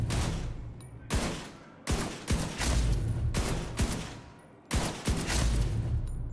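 Gunfire in Tom Clancy's The Division 2, aimed at an elite enemy's head: loud, booming shots in quick succession, several bursts separated by short gaps, each with a rolling echo, with no voices.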